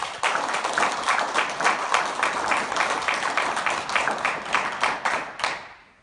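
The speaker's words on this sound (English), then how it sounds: "Give him a massive round of applause." An audience gives a round of applause for a speaker, Kevin Ryder, dense close clapping from many hands that holds steady for several seconds before tapering off.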